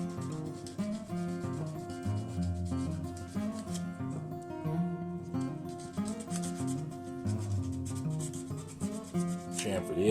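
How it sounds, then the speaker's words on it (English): A small cracked fiberglass piece from a golf cart repair is sanded by hand, making a steady, close rubbing and scraping sound that continues without a break. "Sand this little piece just so that it has something."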